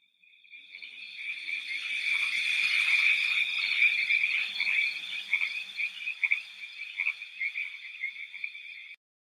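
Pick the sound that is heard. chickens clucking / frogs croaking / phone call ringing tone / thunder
frogs croaking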